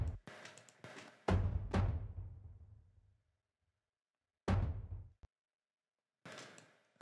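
A cinematic pattern pitched up one octave, with shortened transients, plays as a few sharp, booming impacts that ring and decay, separated by short silences, with one final hit starting near the end.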